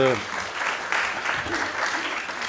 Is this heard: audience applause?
yes